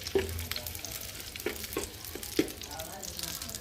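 Onion and garlic fry in hot oil for a dal tempering, producing a moderate, steady sizzle with a few distinct spatula knocks and scrapes.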